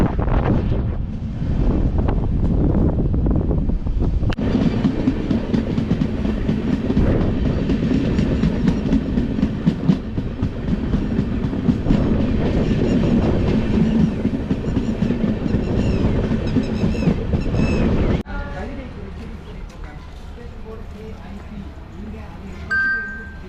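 The Tambaram to Senkottai SF Express rolls along at speed, a loud continuous rumble with rattling carriage noise and wind buffeting from inside the train, easing to a quieter rolling hum near the end.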